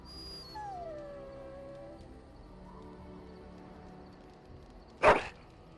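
A dog in the video game Dragon Age Origins gives a drawn-out, falling whimper-howl near the start, then a low ambient stretch, then one sudden loud bark-like yelp close by.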